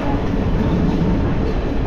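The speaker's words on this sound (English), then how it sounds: "this is going to be a very fun train ride" Interior of a third-class train from Kandy, Sri Lanka, in motion, a loud, steady rumble and rattle of carriages with a continuous rolling roar and no voices.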